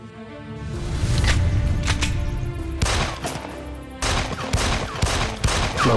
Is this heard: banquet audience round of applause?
no